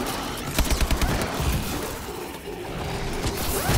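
Dense, rapid gunfire in Call of Duty Exo Zombies: irregular crackling bursts of shots, fairly loud and continuous, with scattered sharper cracks.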